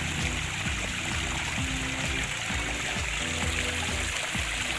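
Liquid fungicide and bactericide, a grey-brown cream mixture, is poured from a bottle, a steady faint trickling flow lasting several seconds with no talking over it.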